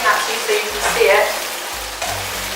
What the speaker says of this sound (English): We're going to be frying our onions.